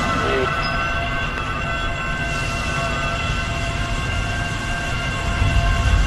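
A train passes in a video game, rumbling with a steady mechanical drone and sustained horn-like tones, continuous and fairly loud throughout, with no voices.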